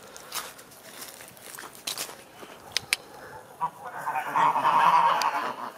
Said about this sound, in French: Donc là, c'était les poules.